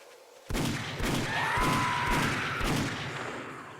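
Gunfire in the survival video game 7 Days to Die: about five loud, evenly spaced shots boom out one after another, each with a heavy low thump and lingering echo, heard alone.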